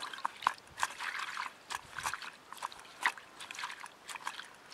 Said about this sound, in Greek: Αρχικά τα ξεπλένουμε καλά.